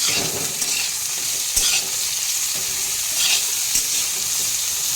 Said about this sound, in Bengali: দিয়ে দেব অল্প হলুদের গুঁড়ো, দিয়ে আমি পটলগুলো ভালো করে ভেজে নেব